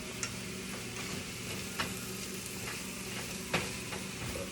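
Fajita meat fries in a skillet that is too small for it. The sizzle is steady and crackling, with a few sharp pops and ticks, and no voice is heard.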